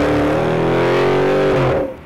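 Dodge Challenger SRT 392 with its 6.4-liter Hemi V8 revving loud and close, a rich rising engine roar that climbs in pitch, then drops and fades away near the end.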